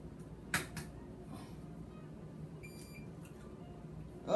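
A kitchen appliance gives a short, faint electronic beep while gingerbread, oatmeal and pecan sandie cookies bake, heard over a quiet room with a couple of soft knocks and clatters.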